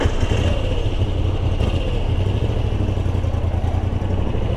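A 2024 Moto Guzzi V85TT motorcycle engine purring while riding: a steady, loud, low rumbling drone that holds even throughout, with no talk.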